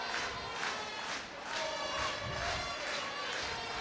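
A crowd roars steadily and loud in a stadium at a women's Six Nations rugby match between Ireland and Italy, while a commentator talks over the noise.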